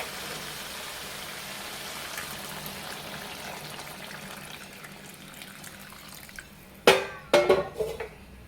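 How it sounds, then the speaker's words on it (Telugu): A quiet hissing background gives way to water splashing and clattering against a metal pot in a few short bursts near the end, as water is added to mutton curry cooking. "ఇప్పుడు నేను వాటర్ అయితే వేసుకున్నాను"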